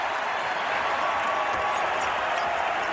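A sellout basketball arena crowd at Gamble Pavilion, about ten thousand fans, roars and cheers in a steady, dense wash of noise with no clear breaks.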